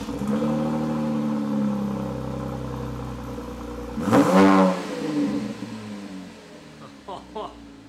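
A Chevrolet Camaro V8 fitted with new Borla exhaust mufflers idles with a steady low rumble, then blips sharply into a loud, brief rev near the midpoint before settling back down, with people speaking faintly in the background.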